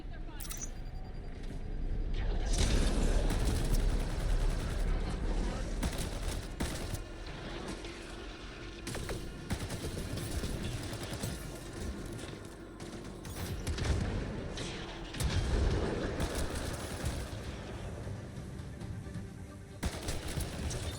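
Ket enemies in Mass Effect: Andromeda fire continuous volleys that rattle and crack against shields in a sustained, mid-distance barrage, with rumbling impacts and surges of heavier fire, while voices talk over the battle.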